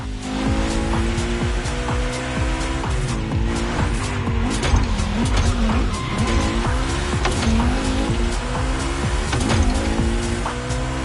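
A Mustang Boss 429 muscle car drives in The Crew Motorfest racing game, its engine droning steadily and loud throughout with shifting pitch, tire squeals and skidding cutting in, no talk.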